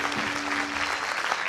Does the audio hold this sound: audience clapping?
yes